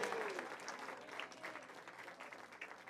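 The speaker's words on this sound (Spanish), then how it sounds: "Dele un aplauso a Dios porque Él le ganó a usted" A church congregation applauds together, a faint, steady wash of many hands clapping at a distance with no break for the whole stretch.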